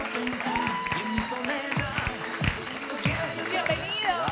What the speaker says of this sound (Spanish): con un fuerte aplauso recibamos al señor Ronald Farina